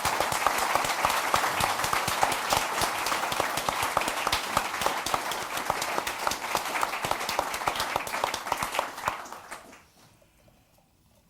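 A large audience at a London institute gathering breaks into sustained, dense applause welcoming Singapore's Minister Mentor Lee Kuan Yew in 2008; the clapping holds steady and loud for about ten seconds, then quickly dies away to near silence.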